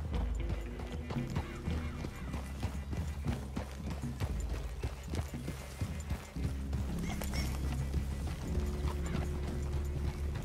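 Horses trot in the Red Dead Redemption 2 video game, a continuous clip-clop of hooves with an occasional whinny, heard close and steady beneath faint game ambience.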